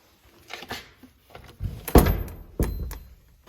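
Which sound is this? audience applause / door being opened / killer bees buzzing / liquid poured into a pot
door being opened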